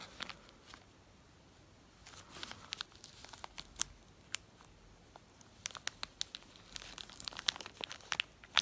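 Packaging around RAM memory modules for a retro PC upgrade crinkles and tears open nearby, a steady stream of sharp plastic crackles and small snaps that grows busier toward the end, with no voices.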